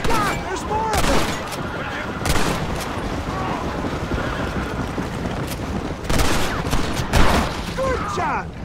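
Gunfire in a Red Dead Redemption shootout: rapid, loud rifle and pistol shots crack one after another throughout, with heavier blasts scattered in and voices shouting under the fire.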